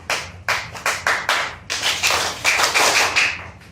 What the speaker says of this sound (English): I'm going to clap 5 times, then you copy me